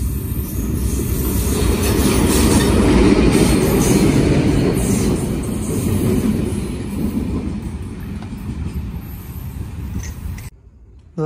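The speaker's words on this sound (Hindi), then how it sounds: "हमारे सामने से आ रही है 106 डाउन रावल एक्सप्रेस" 106 Down Rawal Express train arriving at Jhelum railway station platform in Pakistan, a loud sustained rumble of wheels and rolling cars close by that slowly fades.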